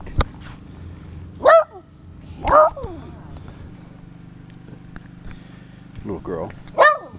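A dog gives several short, sharp barks and yips spaced out over several seconds, fairly close, with a low background hum between them.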